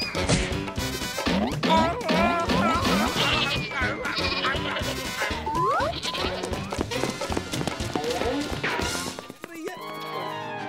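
Cartoon goats bleat repeatedly in a 3D animated comedy, many overlapping calls amid thuds and crashes, loud and busy throughout, with a quieter pause near the end.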